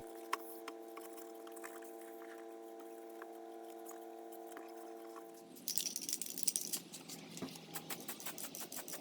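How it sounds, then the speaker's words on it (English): A low steady hum gives way to gritty, rhythmic scrubbing strokes of wet sanding primer on a drill case, fairly quiet and close, repeating in quick passes. "Here I'm wet sanding the primer."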